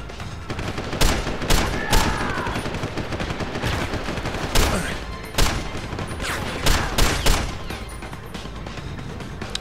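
Rapid bursts of gunfire in the video game Deus Ex: Human Revolution, with repeated loud volleys and machine-gun fire clattering across the whole stretch and no talk over it.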